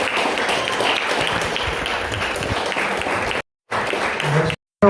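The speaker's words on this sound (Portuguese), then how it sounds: "Aplauda o Senhor" A congregation at a church service applauds in a continuous, loud, dense roar of clapping, broken by two brief dropouts.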